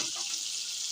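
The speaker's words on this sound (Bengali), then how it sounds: "ব্রয়লারের মুরগির মাংস রান্না করা হবে, এজন্য ফার্স্টে ভেজে নেওয়া হচ্ছে" Broiler chicken meat fries in hot oil, giving a bright, continuous close sizzle that stays even and steady with no talking.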